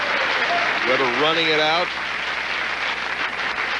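A bowling crowd at the 1999 Oronamin C Japan Cup applauds steadily throughout, a broad wash of clapping under a commentator's voice.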